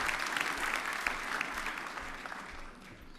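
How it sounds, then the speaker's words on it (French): An audience on a French game show applauds a departing contestant, dense steady clapping that carries on for the whole stretch, filling the room, then easing off slightly toward the end. "On l'applaudit encore."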